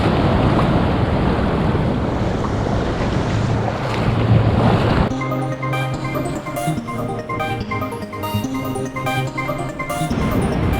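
Pacific Ocean surf washing onto a beach during Dungeness crab snaring, a steady loud roar of breaking waves mixed with gusty wind noise on the microphone, later joined by a rhythmic background music bed, with no voices.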